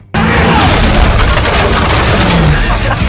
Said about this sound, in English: Max doesn't care and will still activate the bomb even though there are children